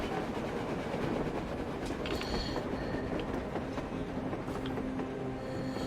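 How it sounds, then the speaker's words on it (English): Train rolling along on the surface in the Metro Exodus video game, a continuous rumbling clatter of wheels on rails with faint metallic squeals, steady and fairly close. "A damn train on the surface!"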